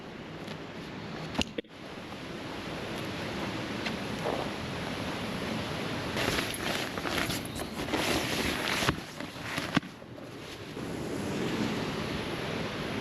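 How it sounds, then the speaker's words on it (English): A waterfall roars at a canyon-bottom campsite beside a creek, a steady broad rushing wash of falling water that swells and dips slightly, with a couple of brief close bumps and no voices. "We're gonna be falling asleep to the sounds of the waterfall tonight."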